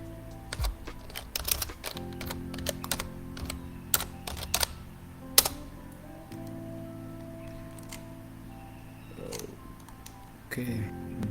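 Computer keyboard typing, close and crisp: irregular bursts of key clicks with a few sharper taps and pauses, over a steady low background hum.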